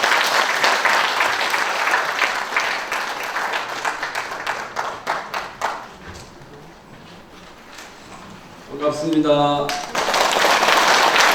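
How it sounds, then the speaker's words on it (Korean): An audience at a founding ceremony of a local history and culture institute applauds to welcome a Buddhist monk lecturer, dense clapping fading away over several seconds, then a man's brief spoken greeting over a microphone and renewed clapping. "뜨거운 박수로 환영해 주시기 바랍니다."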